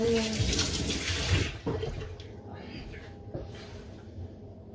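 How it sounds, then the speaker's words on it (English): Hands washed under a running kitchen tap while cooking a stew, a steady splashing water stream for about a second and a half, then fading to quieter drips and faint handling sounds. "Wash the hands."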